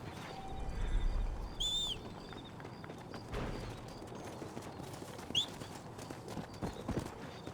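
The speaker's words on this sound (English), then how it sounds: "O cavalo burro." Horse hooves clip-clopping in Red Dead Redemption, a steady rhythmic beat of hoofsteps at moderate distance, joined by faint bird chirps and distant ambient game sounds.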